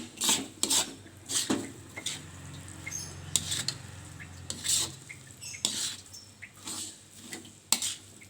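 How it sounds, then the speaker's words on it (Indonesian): Rice with anchovies stirred in a pan over low heat, giving intermittent scraping and rasping strokes with soft patter between them, close and fairly loud, with no talking. "Kita aduk terus"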